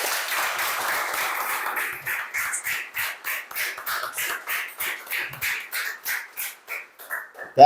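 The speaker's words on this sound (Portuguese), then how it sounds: "uma salva de palmas, minha gente" Applause from a small group, steady at first, then breaking into separate rhythmic claps that thin out toward the end.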